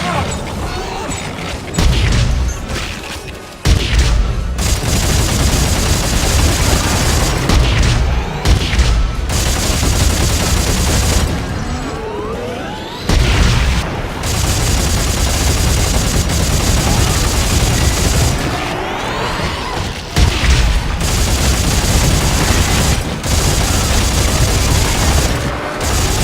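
Probe gun firing in Dead Space 3, loud bursts of rapid gunfire in near-continuous volleys with brief gaps, mixed with booming impacts and mechanical clatter.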